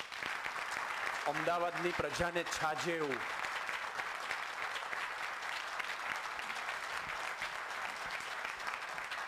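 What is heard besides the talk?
audience applause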